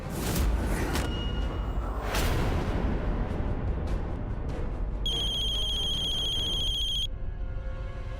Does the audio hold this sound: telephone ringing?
yes